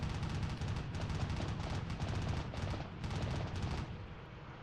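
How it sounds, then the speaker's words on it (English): A medium machine gun fires steadily in Army Men: World War, a dense continuous rattle of rounds that stays fairly quiet and even throughout, thinning slightly toward the end. "Man, it's a powerful machine gun too."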